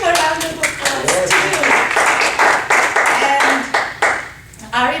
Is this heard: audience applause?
yes